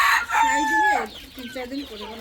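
Desi chickens on a small farm cluck nearby while a rooster lets out a short crow, the loud call opening the moment before quieter clucks trail off.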